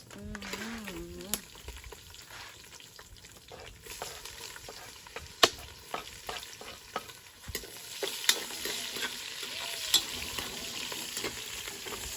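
Onions frying and being stirred for plov in a pot over a village campfire: a steady faint sizzle with scattered scraping and tapping of a utensil, occasional louder clinks, close and without talk.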